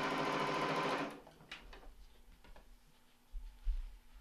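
A sewing machine runs fast and steady for about a second while stitching a kite quilt block seam, then stops, leaving only faint clicks and handling noises.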